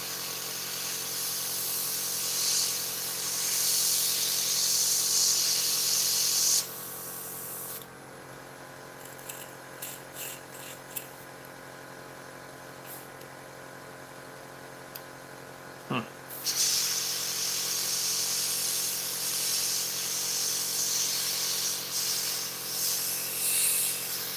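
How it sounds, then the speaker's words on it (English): An airbrush sprays primer onto parts of an Eduard 1/48 Hawker Tempest plastic model kit, a steady airy hiss starting abruptly partway through and holding continuously before cutting off, alone without talk. "we just spray what is left here"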